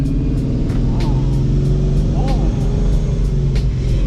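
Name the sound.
C6 Corvette ZR1 engine revving with Paxton supercharger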